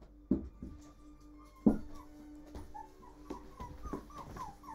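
Newborn puppies whimper and yip softly in a series of thin, high cries with a few low bumps, heard close but faint and with no talking.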